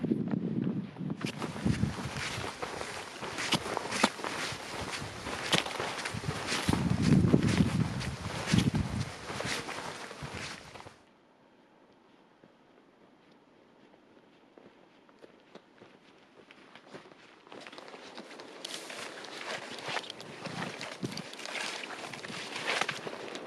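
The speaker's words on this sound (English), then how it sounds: "It's really windy" Strong gusty wind roars across the microphone on a coastal hiking trail, loud for several seconds, then dropping to a quiet lull before building again.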